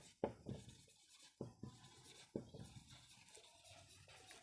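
Chalk or marker scratches across a board during a physics lecture in a few short, close bursts separated by brief pauses, with no talk.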